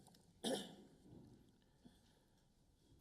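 A single sharp cough breaks the quiet of a council meeting room, followed by faint rustling and a second short cough at the very end.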